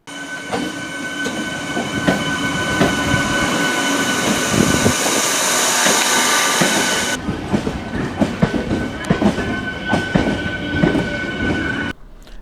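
A MEMU electric train runs on rails with a loud, continuous rumble and rattling wheel noise, carrying a whining hum, then the sound drops off abruptly as it passes and shifts to a rougher clatter.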